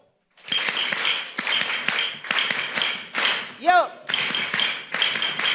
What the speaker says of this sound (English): then we will do the 3-clap tejime